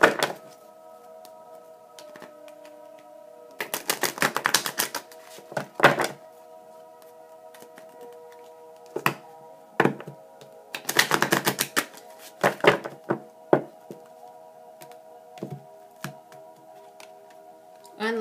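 Short bursts of rapid, fluttering riffles of angel answer cards with a few isolated taps in between, over a soft, steady musical tone.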